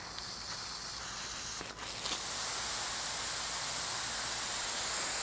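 Steady hissing spray of water from a lawn sprinkler on a repaired line, continuous and close, with a brief dip and burst partway through.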